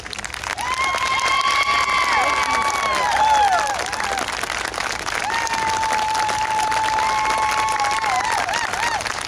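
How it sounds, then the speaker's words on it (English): A crowd bursts into sustained applause for standing military veterans, with whoops and drawn-out cheering shouts rising over the steady clapping, peaking around the middle before carrying on strongly. "give you a huge round of applause"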